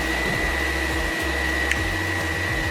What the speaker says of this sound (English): old golden hot dryer that I've had, look at this. This thing is going strong.